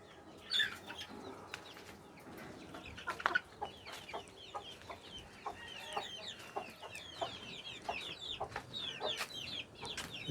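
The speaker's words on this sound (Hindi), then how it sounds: "ये एक मुर्गी है।" Aseel chickens cluck and squawk repeatedly close by, overlapping chirps and calls in a busy, continuous farmyard chatter.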